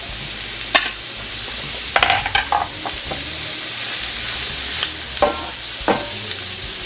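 Two onions fry in beef fat for a shepherd's pie, a continuous close sizzle broken by several sharp stirring scrapes and clicks, with no talking.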